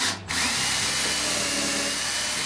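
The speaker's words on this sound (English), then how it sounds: "Now we'll pre-drill." A power drill whirs loudly and steadily up close after a brief start, pre-drilling into a wall stud, its high-pitched motor running continuously with a grinding edge.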